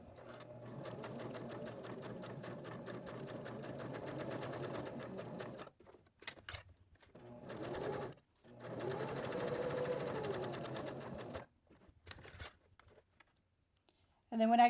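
A domestic sewing machine stitches and back-stitches around the edge of a ribbon monogram keychain in steady mechanical bursts, with several short pauses and restarts between runs of stitching.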